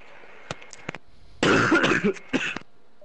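Coughing and throat clearing from a player during a 2K esports basketball match, a few short bursts followed by a longer hacking cough and a final brief cough, close to the microphone.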